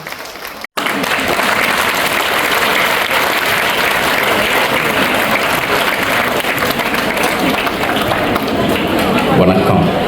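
An audience claps loudly for guests including President Anura Kumara Dissanayake at a public event, a dense, sustained roar of applause that runs without a break after a brief cut near the start.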